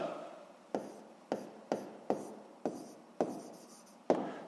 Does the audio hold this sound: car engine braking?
no